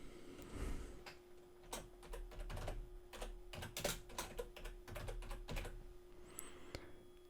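Fingers tap on a computer keyboard, a quick irregular run of close, soft clicks with short pauses, and no speech over it.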